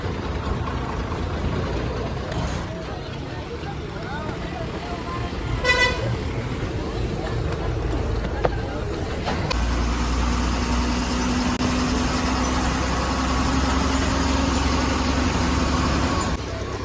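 A Maharashtra ST bus bound for Chandgad idles with a steady low engine rumble throughout, while a short horn toot sounds partway through; people talk nearby over the engine noise.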